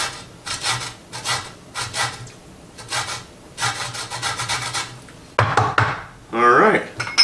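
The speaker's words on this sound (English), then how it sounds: "Here it is, just a grater. There's your lime, and it's just the skin at the finest grate you can get." Lime peel is rubbed against the finest side of a kitchen grater for zest in short rhythmic rasping bursts, close and crisp. A few metallic clinks follow near the end.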